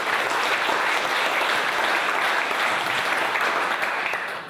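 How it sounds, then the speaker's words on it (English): Audience applause at a global summit farewell address: loud, sustained clapping from a large crowd filling the room, holding steady before easing slightly at the very end. "This one deserves an ovation or a clap."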